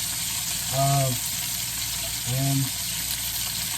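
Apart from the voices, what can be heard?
bratwurst burgers sizzling in a pan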